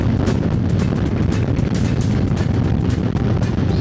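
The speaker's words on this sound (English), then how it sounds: "Got super windy as soon as we got up here." Strong wind roars and buffets against the microphone constantly while riding a Harley-Davidson Road Glide motorcycle on a Nevada road, a loud, turbulent rush with no pauses.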